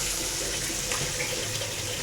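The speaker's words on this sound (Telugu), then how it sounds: "కొన్ని వాటర్ అనేది వేసేసుకుందాం మనం." Water poured into a pan of chicken liver curry, a steady close splashing pour lasting the whole moment with no voices.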